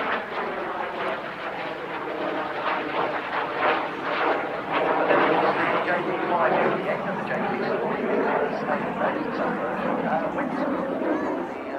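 A Jet Provost T5 jet trainer flies at the RAF Cosford Air Show, its engine roaring loudly and continuously overhead while someone talks over it.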